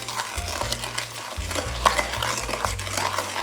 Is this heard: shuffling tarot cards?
no